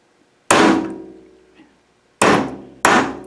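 A hammer strikes a brass shell casing to flatten it, giving three sharp, loud metallic blows with ringing decay. One blow comes alone and then, after a pause, two more land in quick succession.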